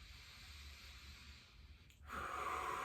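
A slow, deep exhale of breath during a groin and adductor stretch, soft and airy, rising to a steadier, louder breathy rush near the end, close and alone without talk.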